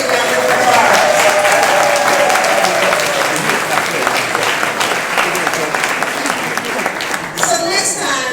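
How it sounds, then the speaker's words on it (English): A large crowd at a Carnegie 50th-anniversary celebration for The Washington Informer gives Michelle a sustained, dense round of applause that swells and holds loudly, with a voice speaking over it and a brief dip near the end. "let's give Michelle a really big round of applause."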